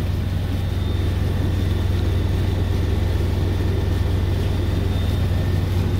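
Steady low engine drone with a constant hum from a sailboat motoring under engine power, continuous and fairly loud with wind noise over it.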